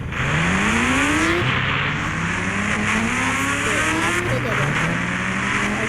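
Motorbike engine in the mobile game Indian Bike Driving 3D, droning loudly and steadily with repeated rising revs as it accelerates through gears, alongside game background noise.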